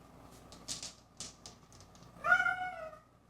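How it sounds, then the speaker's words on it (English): Cats fight, with a few short scuffling sounds followed by one clear drawn-out meow near the end, fairly quiet overall. "Cats are biting each other."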